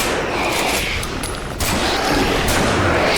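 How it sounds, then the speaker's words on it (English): Powerful shotgun blasts, loud and close, in a rapid burst of gunfire with a brief lull in the middle before more shots. "He took out a tremendously powerful shotgun"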